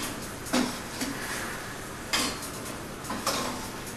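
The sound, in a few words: slotted spoon removing softened cherries from the pan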